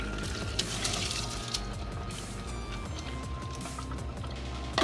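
Water poured into rice in a biryani pot, a continuous splashing, gurgling stream heard close and steady throughout with a faint clatter of the pot.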